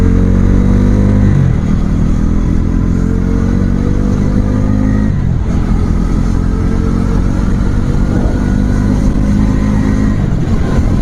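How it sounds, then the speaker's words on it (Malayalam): A Bajaj NS400Z motorcycle engine revving hard while riding on an open road, loud and close, climbing through the gears with brief dips at each shift before pulling up again. "വണ്ടിയുടെ എൻജിൻ സൗണ്ട് നോക്കാം."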